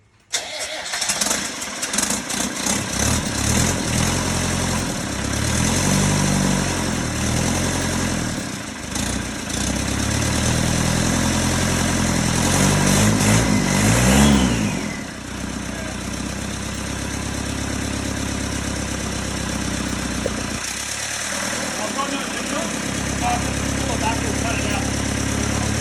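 A classic Range Rover engine cranks and catches for the first time in over a year, then runs steadily with a few revs, loud and close, with voices over the noise.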